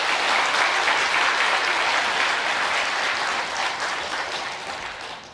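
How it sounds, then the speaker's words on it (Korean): A church congregation applauds at a Sunday worship service, a dense, steady wash of clapping from many hands that slowly fades toward the end, with no voices over it. "우리 큰 박수 한번 해드리겠습니다."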